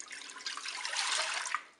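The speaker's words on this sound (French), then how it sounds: "On verse le lait dans la cuve." Milk pours into a Cookeo multicooker pot, a short soft liquid stream splashing and trickling for under two seconds, faint and alone.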